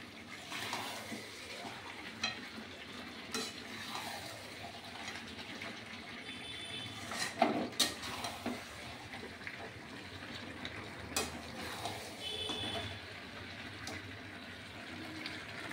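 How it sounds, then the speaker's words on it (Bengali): Goat meat frying in a pan makes a continuous hissing sizzle, broken by periodic scraping stirs of a spoon against the pan, close and moderately loud throughout. "এইবার দেখো আরেকবার একটু নাড়াচাড়া করছি, কেন লেগে লেগে যাচ্ছে"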